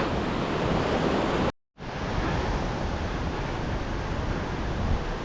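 A waterfall near Half Dome in Yosemite, below Liberty Cap, roars as a constant broad rushing wash, loud and close, interrupted by a momentary dropout before resuming unchanged.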